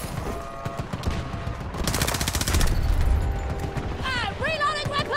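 Rapid automatic gunfire in Battlefield 2042 rattles in a dense, loud burst mid-clip amid battle noise, followed by rising electronic chirping tones.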